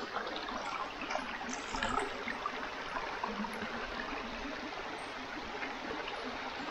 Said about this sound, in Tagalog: Welcome to Panusugin Falls